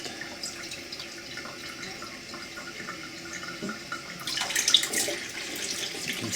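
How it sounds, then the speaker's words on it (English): Tap water runs steadily into a glass sprouting jar as the seeds are rinsed, a soft close trickle that swells into a fuller, brighter rush near the end as the jar fills. "Remember to fill the whole jar with water so that the air gets replaced."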